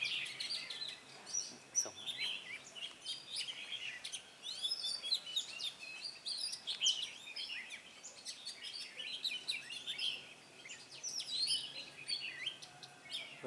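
An oriental magpie-robin sings in a garden in Hòa Bình, Vietnam, with a steady run of bright, high chirps and warbled phrases. The song carries on throughout at moderate volume, with no talking.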